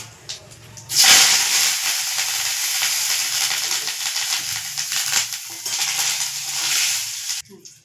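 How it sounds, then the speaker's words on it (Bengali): Washed curry leaves drop into hot oil with cumin and dried red chili, bursting into a sudden loud hiss and sizzle that holds steady for several seconds before cutting off sharply. "এবার আমি এই কারি পাতাগুলো ধুয়ে আমি দিয়ে দিচ্ছি।"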